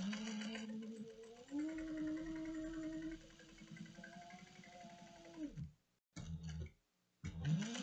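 A sewing machine top stitches a cross-body sling bag at an eighth of an inch, running in a steady mechanical whir that shifts pitch midway, then stops and restarts in short bursts.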